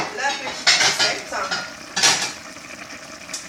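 Cutlery and dishes clink and clatter as a table is set in a home kitchen during a quick chicken-fillet-with-cheddar-sauce recipe; a few sharp, moderately loud knocks amid softer rustling.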